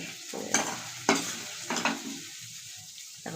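Vegetables are tipped into a pot of simmering rice and lentils and stirred in. A few soft, close scraping strokes sound over a quiet bubbling background, then it goes calm.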